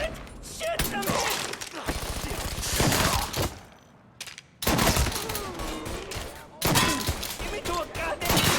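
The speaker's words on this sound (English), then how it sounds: "Firing on that piece of shit!" Heavy gunfire in the video game Mafia 3, loud bursts of shots and shattering impacts tearing through a chaotic firefight, briefly dropping out twice before resuming at full intensity, with shouting voices mixed in.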